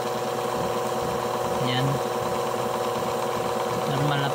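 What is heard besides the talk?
washing machine gearbox running after repair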